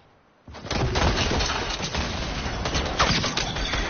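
Rapid video-game gunfire bursts in after a brief quiet, with dense volleys of shots and booms continuing at steady loudness, punctuated by sharper cracks.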